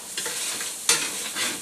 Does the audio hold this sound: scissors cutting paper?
no